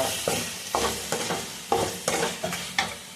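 Boiled mutton is stirred into frying onion and tomato for mutton thokku, with a soft sizzle under about eight rhythmic stirring scrapes about every half second, close and fairly quiet, with no talking.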